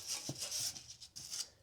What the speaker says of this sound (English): So I'm going to brush this off so we have a good prepped surface.